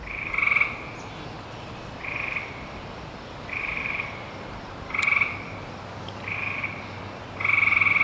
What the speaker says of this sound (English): I'm just surrounded by frogs.